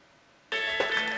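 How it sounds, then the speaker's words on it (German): Ringing tone of an outgoing phone call, starting abruptly as a steady electronic ring that sounds close and clear, with no talking. "es klingelt schon mal beim Lars."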